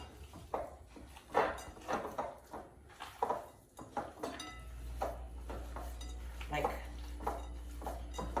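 An egg is mixed into a meatball mixture in a bowl, with irregular clinks and scrapes of a utensil against the bowl and a low hum rising partway through.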